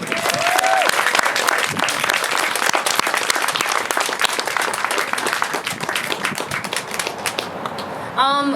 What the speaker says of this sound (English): Another round of applause for Jazz and Jordan, please